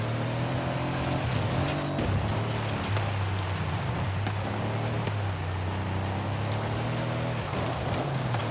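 Car cutting cross-country off-road in Forza Horizon 5, a steady loud engine drone with shifting pitch and gear changes, mixed with constant rumbling tyre and terrain noise.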